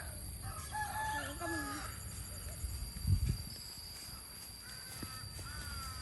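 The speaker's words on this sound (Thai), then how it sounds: "สัตว์แปลกนั้นตรงนั้นจะเป็นไก่นะคะ" Chickens in a rice field behind a house, with a rooster's drawn-out crow near the start followed by scattered faint clucks, and a brief thump midway against quiet outdoor background.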